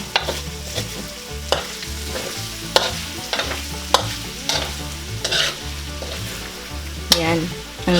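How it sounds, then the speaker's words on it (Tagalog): Pork tripe adobo, tinted with annatto powder, is stirred in a hot pan, giving a steady sizzle with repeated sharp scrapes and clacks of the utensil against the pan, close and fairly loud throughout. "Ngayon po ihahaluin po muna natin para po magpantay yung kanyang kulay."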